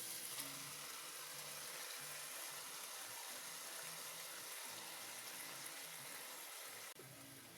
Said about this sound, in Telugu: ఒకసారి అన్ని ఫ్రై చేసుకుందాం.